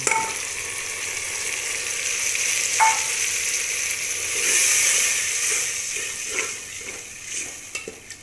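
Tomato, garlic, ginger and onion paste goes into onions frying in oil for an aloo baingan dish, giving a steady, close hiss of sizzling that swells midway and breaks into light stirring scrapes toward the end.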